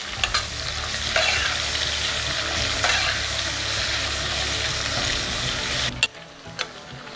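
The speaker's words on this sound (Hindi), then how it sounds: "फिर इसमें हम डालेंगे लंबे कटे हुए प्याज" Long-cut sliced onions sizzle and fry in a hot pan while being stirred steadily, a dense crackling hiss with scraping strokes, near and loud. The frying cuts out sharply near the end, leaving a few faint clinks.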